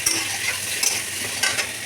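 Potatoes and onions fry with chilli and spices in a pan, a steady close sizzle broken by a few short scraping stirs.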